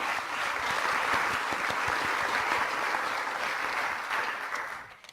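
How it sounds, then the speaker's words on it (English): A lecture audience gives sustained applause, a dense even wash of many hands clapping that holds steady and tapers off in the final moment. "Please give them a round of applause."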